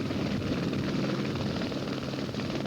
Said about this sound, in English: The pilot and medics load the patient into the helicopter.